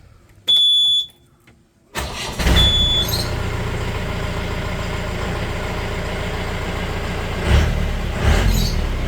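A modified Mahindra Major 4x4 jeep with its silencer cut and the exhaust rerouted to exit at the side starts up after a brief beep, then idles loudly and steadily up close with a couple of revs near the end.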